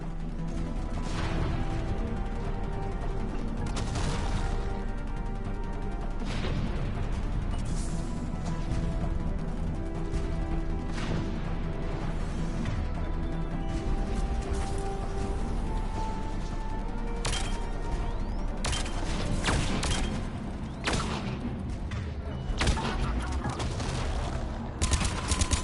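Sustained, dense gunfire and explosive impacts from a Mass Effect 3 battle on Tuchanka pound almost without a break, loud and close, layered with crashes and mechanical clatter over a constant low rumble.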